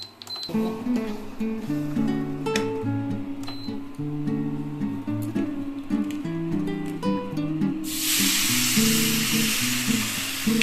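Semolina frying in a pan for a semolina pulao, a soft sizzle mostly buried under steady background music until a brighter, louder hiss rises over the last few seconds.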